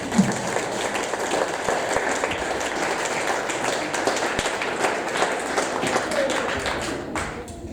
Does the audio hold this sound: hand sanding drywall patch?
no